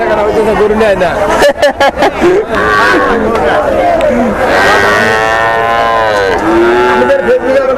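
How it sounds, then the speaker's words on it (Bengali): Cattle at a small cow farm keeping Australian and Friesian cross breeds, with several loud, drawn-out moos close by, one after another, while people talk and chatter around them. "গরু"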